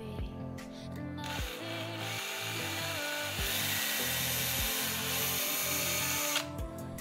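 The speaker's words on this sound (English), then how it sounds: "clean out the pivot point with a 3mm drill bit" A power drill with a 3mm bit whirs steadily and loudly close up, grinding through a 3D-printed plastic pivot hole for several seconds, with brief pauses and changes in pitch as the bit works.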